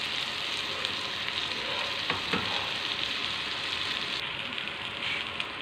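Chili hotdog frying in a pan, a steady broadband sizzle and crackle running throughout with a couple of brief sharper pops midway, close and even in level.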